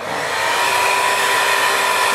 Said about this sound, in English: what I do is hit it with a dryer